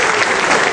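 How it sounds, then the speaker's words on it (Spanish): A crowd applauding at a live music event, loud dense clapping filling a brief moment close at hand. "Fuerte el aplauso para estos grandes"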